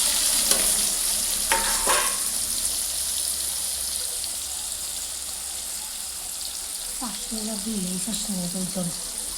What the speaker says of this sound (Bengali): এখন দম বিরিয়ানির জন্য বেরেস্তা ভেজে নেব।